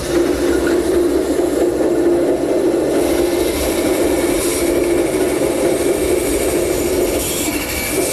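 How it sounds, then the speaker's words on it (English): A bandsaw cuts the rounded end of a wooden spreader for a library ladder, a steady loud whirring hum with a constant tone and no breaks. "We'll do that at the bandsaw."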